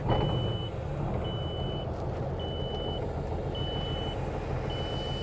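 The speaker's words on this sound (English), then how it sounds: "I always set the truck up on a little bit of a high idle, get the oil pressure up, let everything warm up" An old truck engine idles high and steady close by, a continuous low rumble, while a reversing alarm beeps in a regular rhythm of five even tones.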